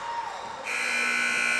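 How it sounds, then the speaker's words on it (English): The final buzzer at the end of a men's college basketball game, a loud sustained electronic tone that starts partway through and holds steady over gym crowd noise. "Final buzzer sounds"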